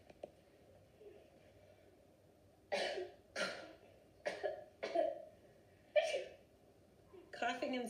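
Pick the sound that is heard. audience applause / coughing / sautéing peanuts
coughing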